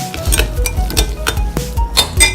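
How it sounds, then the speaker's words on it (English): A spoon stirs a meatless meatball mixture in a bowl, giving a series of sharp clinks and scrapes against the dish, close and irregular, with no talk. "Give that a quick stir"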